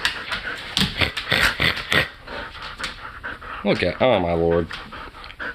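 An excited, bouncing dog pants rapidly in quick rhythmic bursts close by, with a brief whimpering whine near the end, while a person exclaims over it.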